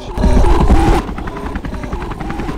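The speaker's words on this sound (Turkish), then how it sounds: "Helikopter mi?" A helicopter roars loudly in a Christmas-themed video game, its rotor chopping in a rapid pulsing rhythm that stays close and dominant and eases slightly partway through.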